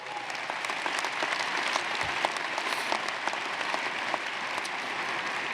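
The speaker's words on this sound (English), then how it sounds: "let's give her a round of applause" A commencement audience gives a sustained round of applause, steady dense clapping from a large crowd throughout with occasional sharper claps standing out.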